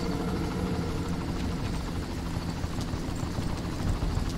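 In the video game Far Cry, continuous rhythmic thudding of helicopter rotors, steady and moderately loud, with a low engine drone and no speech.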